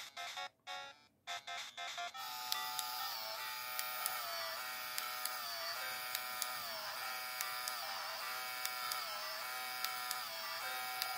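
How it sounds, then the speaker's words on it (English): A Game Boy Printer printing a photo: after a few opening clicks, a steady electric whir with a rhythmic repeating tone and regular ticking as the paper feeds through, close and alone. "It's gonna start sending the information over to the printer."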